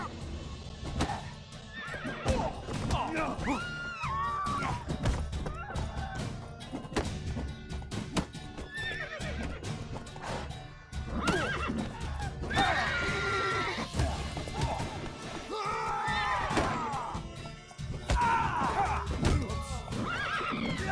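Several loud horse neighs and whinnies ring out over clip-clopping hooves and thuds, with a busy, game-like mix of effects, in The Witcher 3: Wild Hunt.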